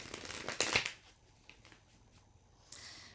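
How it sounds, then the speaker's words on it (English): A deck of tarot cards being shuffled by hand, giving a short burst of papery riffling and flicking near the start, then quieter faint card rustles and a last brief shuffle near the end. "these cards don't really want to shuffle"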